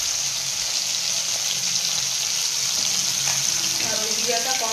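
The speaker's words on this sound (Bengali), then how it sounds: "রান্নাটা চাপিয়ে দিয়েছি, এদিকে মাছগুলো ভেজে নিচ্ছি।" Tangra and shingi fish fry in hot oil in a home kitchen, a steady broad hiss of sizzling running throughout at close range, with faint clinks and stirring near the end and no talk.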